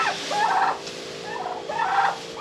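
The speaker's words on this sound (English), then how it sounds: "What's up, turkeys? How you doing?" Turkeys gobbling in a farm pen, two loud rolling gobbles close by with a pause between them, over steady barnyard background noise.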